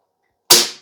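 A single sharp, hollow pop from an empty Umarex NXG CO2 BB pump shotgun after silence, bursting loudly and then fading quickly.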